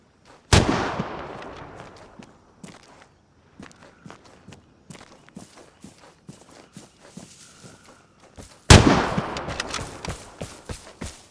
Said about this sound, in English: we're hearing shots on this side of the map. Like, a lot of shots.